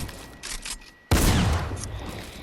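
A tactical shotgun in Fortnite fires a loud, close blast that cuts through faint game ambience, preceded by softer clicks and movement sounds; no voices.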